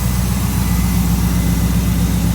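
A Chevrolet Corvette C5 V8, fitted with an aftermarket eBay intake and hot headers, idles steadily and close with a low, rumbling drone throughout, no revving and no voices.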